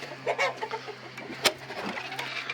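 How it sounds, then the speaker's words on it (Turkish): A chicken clucks softly a few times nearby, with a low steady hum and scattered small farmyard noises in the background. "Burada bir tavuğumuz var"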